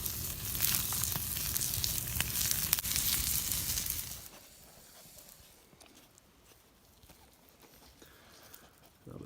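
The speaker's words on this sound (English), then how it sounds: "when we put our steaks, that's the sound" Steaks sizzle over a campfire at a bushcraft lean-to camp, a loud crackling sizzle for about four seconds that then drops to a faint, quieter hiss.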